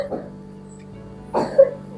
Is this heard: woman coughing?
yes